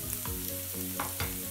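Onions frying in a pan for fish biryani masala, a steady sizzle broken by repeated rhythmic stirring scrapes, several strokes in quick succession, close and fairly quiet with no voices.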